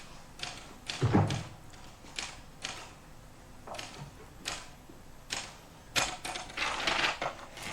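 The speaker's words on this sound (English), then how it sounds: "You hear him typing, already anxious." Typewriter keys strike in uneven bursts, a sharp heavy clack near the start followed by rapid tapping and a quick flurry toward the end.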